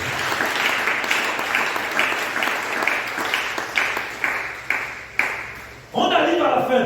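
A church congregation claps in a steady rhythm at a worship service, the close claps rising into a fuller burst of applause near the end, with voices in the background.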